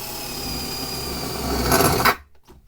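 A hand drill with a Parkside 6 mm bit bores a hole using cutting oil, a steady close whirring drone that strains and rises in grinding noise before cutting off abruptly, leaving faint quiet.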